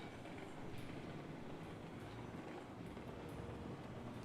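A train rumbles steadily in a train driving video game, a continuous low rolling rail noise with faint rhythmic clicks. Nobody speaks over it.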